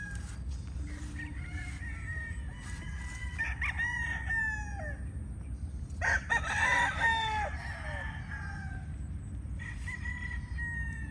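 A gray gamefowl brood stag rooster crows repeatedly, several full cock-a-doodle-doo calls at moderate distance over a low background rumble, with no talk.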